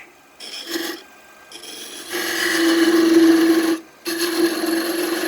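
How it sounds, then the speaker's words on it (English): A hand rasp shapes and rounds a wooden spindle in close, scraping strokes: one short pass, then a long sustained stroke and another after a brief pause. "We're going to round up our spindle"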